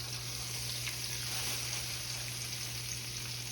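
Country-style pork ribs, dipped in buttermilk and flour, frying in a skillet, giving a steady, even sizzle that holds at the same level throughout, with no other sound over it.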